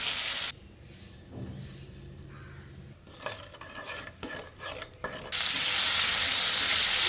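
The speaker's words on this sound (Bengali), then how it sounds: "কালো জিরে ফোড়ন দিয়ে আমি বেগুনটা দিয়ে নিয়েছি" Eggplant fries in hot oil tempered with black cumin seeds, with a soft sizzle and raspy spatula stirring in bursts, then a loud steady hiss of frying close by.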